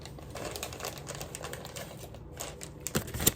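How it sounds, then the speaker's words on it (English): Zip tie ratcheting tight around two stacked moss poles for a houseplant, a run of small, close, quick clicks and crinkles that ends in a few sharper snaps. "now I'm gonna go ahead and zip tie the second moss pole to the first moss pole"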